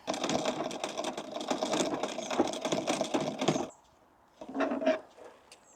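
A vintage sewing machine stitching the inseams of shorts outdoors at sunset runs with a steady, close mechanical whirr and clatter for several seconds, stops briefly, then gives one short burst of stitching.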